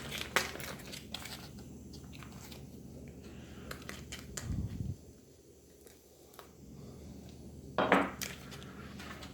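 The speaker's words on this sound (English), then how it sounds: "let's give our chocolate spread our chocolate peanut butter a mix here" Chocolate peanut butter spread from a 2013 Long Range Patrol Ration being mixed, giving quiet scraping, soft crinkling of packaging and scattered small clicks, with a brief louder thud midway.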